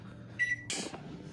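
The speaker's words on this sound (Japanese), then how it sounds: "じゃあ電子レンジ。" Microwave oven heating burdock root in a home kitchen while cooking pork miso soup: a short electronic tone, then a brief clatter like the door or turntable, all close and fairly quiet with no talking.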